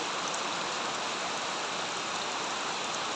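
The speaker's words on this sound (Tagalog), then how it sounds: "Ang lakas ng ulan." Heavy rain pours down steadily in Bicol, Philippines, a dense continuous hiss of drops on surfaces with no other sounds.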